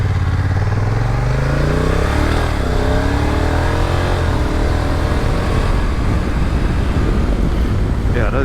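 A 2022 Honda NT1100 touring motorcycle pulls away with its engine note climbing and then dropping at gear changes, loud and close under steady rushing wind noise.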